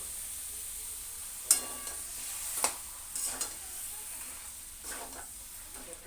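Washed chicken leg pieces go into a hot pan for a dahi chicken dish and set off a faint, steady sizzle, marked by a few sharp clattering stirs and bumps against the pan.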